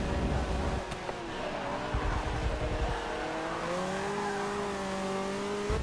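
A Nissan V8 Supercar on a hot lap in a racing video game, its engine droning steadily and rising in pitch through the gears, with brief tyre noise, continuous and fairly close throughout.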